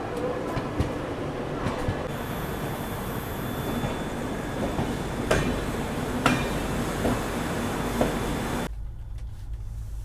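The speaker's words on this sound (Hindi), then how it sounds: "प्लेटफॉर्म नंबर 7 पे आ चुकी है नई दिल्ली से चलकर बनारस की ओर जाने वाली बनारस सुपरफास्ट एक्सप्रेस" A Banaras Superfast Express train from New Delhi pulls in at a busy Indian station platform, its steady loud rumble filling the scene with sharp metallic clanks and wheel knocks over the roar before the noise drops away.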